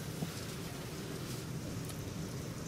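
Rain falling after a thunderstorm with hail in Olyphant in February, a steady soft hiss of rain heard faintly and continuously without breaks.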